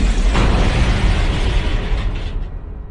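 A loud bomb blast from a vehicle ramming a bus in a terrorist attack in Pulwama roars with a deep, rumbling boom that sustains for a couple of seconds before cutting off.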